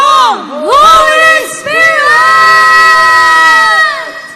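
A worship congregation at an El Shaddai praise and worship gathering shouts loudly together, a dense crowd roar of voices with rising and falling cheers sustained for several seconds.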